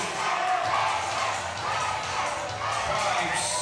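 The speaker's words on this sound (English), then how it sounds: "As the crowd chants Leyte" A junior MPBL basketball playoff crowd chants in a packed arena, a steady, dense roar of many voices that holds throughout, with a commentator talking over it.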